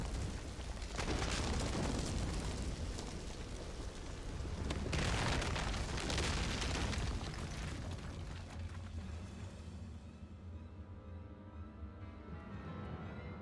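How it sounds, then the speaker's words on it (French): Explosions in the video game Final Fantasy XIV Shadowbringers: loud booming blasts with rumbling debris, two big bursts a few seconds apart, then a long fading roar that thins into quieter low rumble. "Et là, boum. Explosion."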